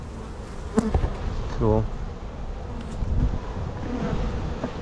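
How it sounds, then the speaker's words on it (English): Steady buzzing of bees in a nuc hive fills the whole stretch, fairly close, with a brief spoken remark. "It's a good chunk of bees in there"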